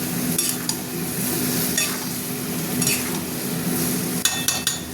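A spice paste is stir-fried in a pan, giving a steady close sizzle broken by scraping and clinks of a utensil stirring against the metal, with no talking.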